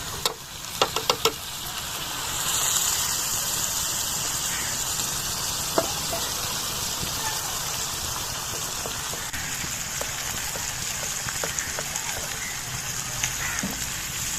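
Cleaned goat brain (magaz) sizzles in hot oil in a pan during village-style bheja fry cooking. It gives a steady, rain-like crackle with a few sharper pops near the start.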